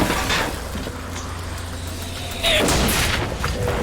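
Gunfire from the video game Bioshock Infinite, with a loud broadband burst of shots near the middle of the clip over a steady low ambient hum and rumble.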